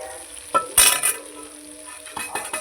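Pieces of silver carp fish dropped into a hot pan: a sudden loud burst of sizzling that settles into quieter frying, with a few scrapes and clinks of a utensil, close and without talk.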